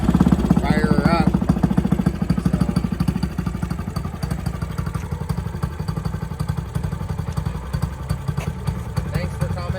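A Grom sport bike, a small motorcycle, starts in neutral and settles into a steady, close, rattly idle that runs throughout, with a person talking over it at the beginning.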